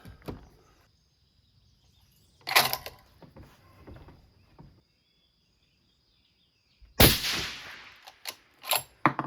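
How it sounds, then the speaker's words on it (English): Rifle fired off a bipod outdoors, two sharp loud cracks several seconds apart, each followed by brief rattling handling noises, with a faint steady high insect-like whine in the background and quiet between. "Shooting this off the bipod here, so it is recoil enough that I need to put it back in place"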